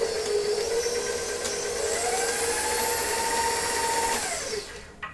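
A stand mixer with a paddle beats gluten-free whoopie pie batter with a steady whirring motor whine that holds level, then spins down and stops near the end.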